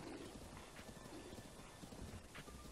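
Horse hooves clip-clop at a steady gait in The Legend of Zelda: Breath of the Wild, fairly faint under game ambience with a few brief higher tones.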